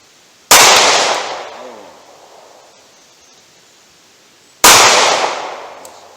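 Two loud, sharp handgun shots ring out several seconds apart at an outdoor range, each bursting suddenly and trailing off in a long echoing decay; the target is a steel plate 70 yards away.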